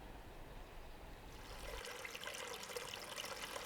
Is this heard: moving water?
yes